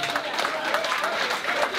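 Applause at a charity auction dinner for a cancer cause, a diffuse, steady patter of many hands clapping from a room of seated guests, fairly quiet and brief, with voices mixed in.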